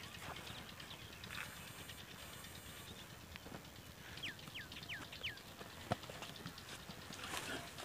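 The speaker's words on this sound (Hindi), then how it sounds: "तो चारा जो हमने गधे पर लोड कर लिया, तो अभी से लेके जा रहे हैं हम घर में।" A donkey loaded with fodder walks along an outdoor rural path, its hooves clip-clopping faintly and steadily at a distance, with a few chirps and background noise around.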